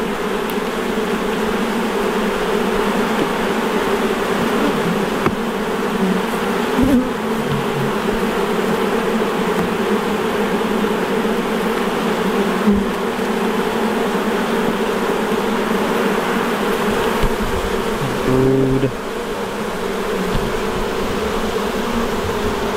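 Honey bees fill the air with a dense, continuous buzz while a top box of a hive is opened and the bees are displaced, the hum steady and close with a few brief knocks and shifts.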